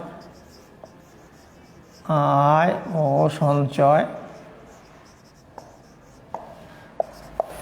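Chalk or marker strokes scratch on a board during a class lecture, with soft irregular taps and scrapes; a voice speaks loudly in the middle, and a few sharper ticks follow near the end.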